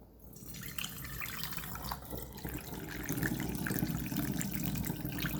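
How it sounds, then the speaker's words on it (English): Homemade ginger ale made with real ginger pours into a bottle, a steady close splashing stream that grows fuller and louder as the bottle fills toward the neck. "Filling it only up to about the neck there."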